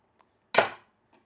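A single crisp chop of a knife cutting through a pepper onto a cutting board, a short, near, clicking thud with a brief ring, alone in an otherwise quiet kitchen.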